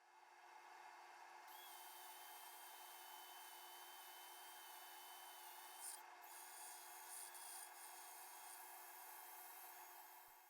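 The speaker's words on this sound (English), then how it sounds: "That 3-inch sanding disc takes up just about the whole inside of this bowl." Steady, raspy whirring of a 3-inch sanding disc grinding inside a spalted maple bowl, continuous and close, with a brief scuffing shift partway through.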